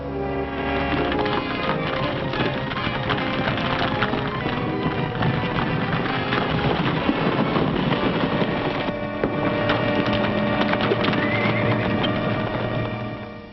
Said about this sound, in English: Get the horses and start after the others.